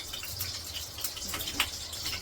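Fried paneer pieces dropped into hot water while cooking a matar paneer curry, giving a steady close wash of watery hiss and gurgle with a few brief splashy bursts, with no talking.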